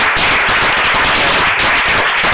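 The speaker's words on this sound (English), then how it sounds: "I think that we ought to give him a round of applause as well" Loud, dense applause at a city council meeting, many people clapping rapidly and continuously, close and full throughout.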